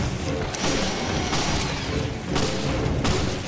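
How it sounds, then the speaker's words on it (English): Grenade launcher shots from Resident Evil Revelations: several sharp, loud broadband bursts land at irregular intervals over a dense, continuous game soundscape, with no talking. "We need to shoot him with these grenades as much as possible."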